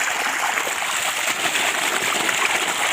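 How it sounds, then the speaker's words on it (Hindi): A steady stream of water pours from a pipe outdoors in a rural village near fields and forest. The splashing rush is close and continuous, with no talking. "यहाँ देखो पानी गिर रहा है पाइप से"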